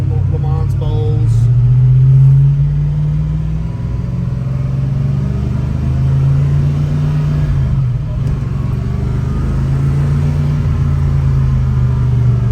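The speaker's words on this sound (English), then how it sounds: "The car doesn't want to die. It idles nice. Throttle response is great." A 1966 Shelby GT350 V8 with a 715 carburetor idles with a steady, loud, deep rumble, its pitch rising briefly as the throttle is blipped early on before settling back to a smooth idle.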